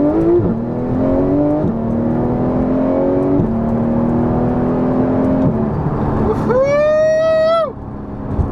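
Porsche GT3 engine droning at steady cruise on a sunny California drive, with gear-change dips, then a sharp rising rev that climbs and holds a high whine before dropping off, loud and close.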